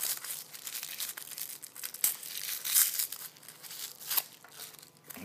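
Small wrapped packet holding an accessory for a 1/6 scale figure weapon set gets unwrapped, with crinkly plastic crackles and tearing rustles in irregular bursts, close and alone.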